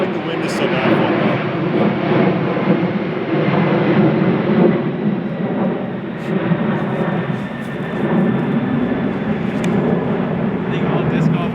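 A fixed-wing airplane flies over a disc golf course on a very windy day, its steady engine drone sitting under continuous wind noise and talk throughout.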